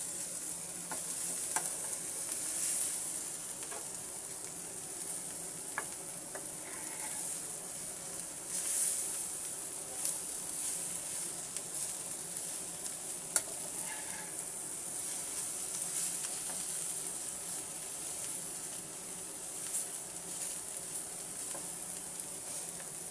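Bitter gourd (karela) and shrimp frying in a pan, with a steady soft sizzle and occasional light scrapes and clicks from stirring, continuous and fairly quiet throughout.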